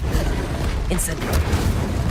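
An Incendio fire spell cast in Hogwarts Legacy on PS5 bursts out as a booming whoosh over a dense, steady wash of game sound. One sharp bright flare sits near the middle.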